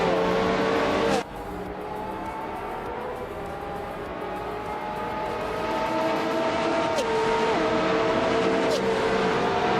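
Race cars roar along in a tight pack, engines droning and revving with a sharp gear-change cut early on, then rising pitch as they accelerate, with a faint voice underneath.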